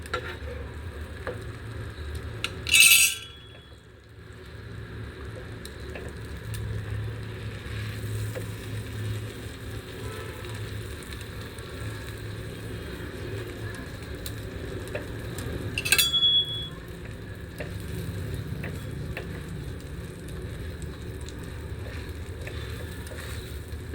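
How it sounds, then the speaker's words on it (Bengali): Kheer fries in butter in a pan with a low, even sizzle that runs throughout, broken by two brief, sharper clatters of utensil handling, one near the start and one midway. "এইভাবে ভেজে নেব, বাটার দিয়ে ভেজে নেব"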